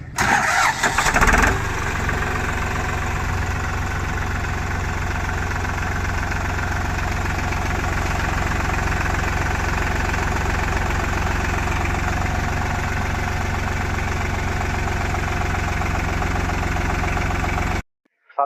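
A Farmtrac 45 Ultramaxx tractor's heavy diesel engine cranks and catches, then settles into a loud, steady rumbling idle with a knocking chug that continues until it cuts off.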